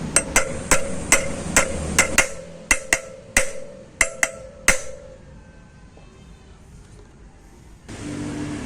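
Metal-on-metal hammer strikes drive a bearing into a Honda Click 125i 2023 scooter wheel rim using a 22 socket wrench as a drift, about a dozen sharp ringing blows in quick succession, then quiet and a faint hum.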